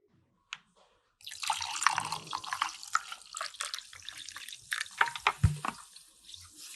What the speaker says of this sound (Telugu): వాటర్ పోసాను